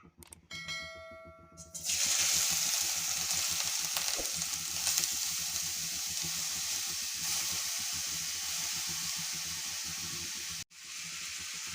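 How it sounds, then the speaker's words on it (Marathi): Grated carrot sautés in hot ghee in a wok for winter carrot halwa. A loud, continuous sizzle fills the kitchen after a brief metallic clatter at the start, with a short break near the end before the frying resumes. "तर हे किसलेलं गाजर आपल्याला साजूक तुपामध्ये छान परतवून घ्यायचं आहे"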